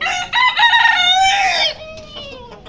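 A Polish rooster lets out a loud, close crow lasting over a second, followed by softer clucking from Polish and Buff Bantam chickens.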